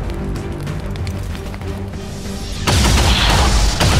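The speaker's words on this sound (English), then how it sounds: "Probably better to use the shotgun." A shotgun blast in XCOM 2 Long War 2 lands partway through, a sudden loud broadband burst that jumps out of a steady low rumble of game ambience and stays loud for over a second.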